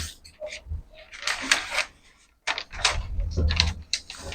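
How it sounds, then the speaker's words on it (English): Scissors snip and slide through dress fabric in short crisp bursts, close and fairly quiet, with brief gaps between cuts. "So I'll just cut it out this way."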